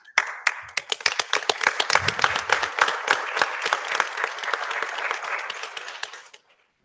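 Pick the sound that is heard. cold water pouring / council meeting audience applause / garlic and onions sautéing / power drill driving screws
council meeting audience applause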